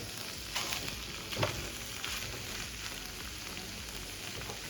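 Chickpeas and potatoes roasting with masala in a pan for a homestyle chana aloo curry, giving a steady soft sizzle with a few brief scrapes of stirring throughout, no voices.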